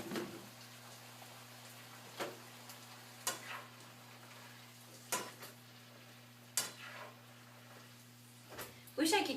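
Mushrooms stir-fried in a pan for a student-budget Asian stir-fry, heard as a steady low sizzle with a constant hum beneath it. Sharp scraping and clacking strokes of the stirring utensil land every second or so, with louder knocks near the end.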